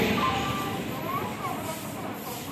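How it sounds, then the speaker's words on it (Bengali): A Bandel local train at a station platform near Mankundu during boarding, heard as a steady rumbling, hissing rail din with faint tonal squeals, loud and close throughout with no clear voices. "তো আমার ট্রেন চলে এসেছে"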